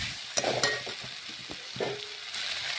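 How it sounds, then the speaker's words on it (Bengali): Fried pointed gourd being stirred with potatoes and carrots in a pan, a steady sizzle of oil under scraping and clattering of the spatula against the metal, close and continuous with no talk. "একসাথে মিশিয়ে নেব আলু গাজরের সাথে নাড়াচাড়া করে।"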